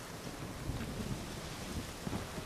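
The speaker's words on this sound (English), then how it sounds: "It's raining." Steady rain with thunder rumbling in The Witcher 3 video game, a dense continuous wash of rainfall with low rolling thunder underneath, no talking.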